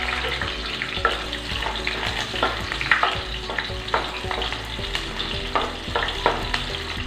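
Small onions and fenugreek frying in oil for a Tamil fish curry, a steady close sizzle with recurring scrapes and stirring knocks of a spoon against the pan throughout.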